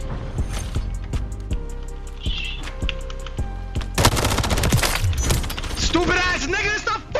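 Rapid automatic gunfire bursts from a Black Ops 6 match, sharp repeated shots in quick succession, loud and close, mixed with mechanical weapon clatter and a few game sound effects, with a voice talking over parts of it.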